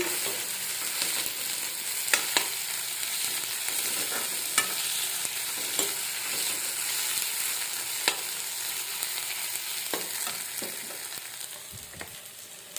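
Meat cooked with two ripe chillies sizzles steadily in a pan, with scraping stir strokes at irregular intervals across a continuous frying hiss, with no voices.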